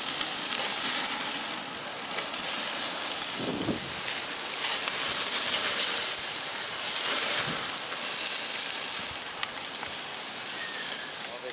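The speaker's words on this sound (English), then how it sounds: "You can see the fat sizzling off the surface of the meat" Strip steak fat sizzling over hot flame on a grill, a continuous loud crackling hiss with occasional pops, steady throughout.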